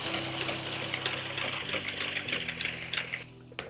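Lemon cookie batter is beaten in a bowl with an electric mixer, a steady close whirring buzz that changes pitch slightly partway through and cuts off at the end.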